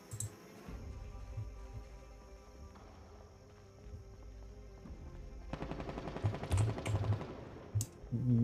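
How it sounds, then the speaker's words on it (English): Bursts of rapid gunfire crackle through a video game soundscape, growing denser and louder toward the end over a low hum. "I've never heard that sound in game before. Like straight up gunfire."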